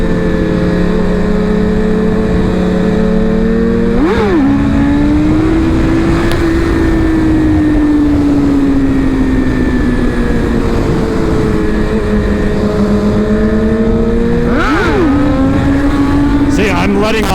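A BMW S1000RR sportbike is revved and throttled for wheelie attempts, a loud, sustained engine drone close by, with two sharp throttle blips and the pitch rising and falling as the throttle opens and closes.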